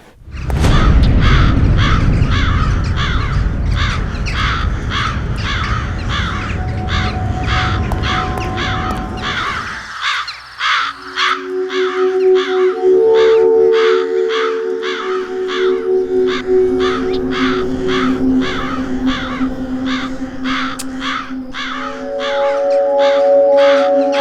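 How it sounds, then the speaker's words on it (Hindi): A flock of crows caws loudly and repeatedly in a steady, dense rhythm for the whole stretch, first over a heavy low rumble that cuts out midway, then over sustained droning tones. "ये कौवे यहाँ पर ऐसे ही रहते हैं क्या? इनके कांव कांव ने मेरा सिर दुखा दिया है।"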